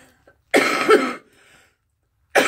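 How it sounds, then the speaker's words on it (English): A deep, chesty cough bursts out, followed by a quieter rasp, then another cough starts at the very end. "I've had this cough. This like deep cough."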